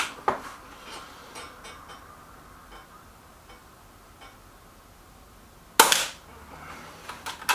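A Weihrauch HW110 air rifle fires a pellet at a target: one sharp, loud crack stands alone amid quiet, faint clicking before and after it, with a softer tap near the end.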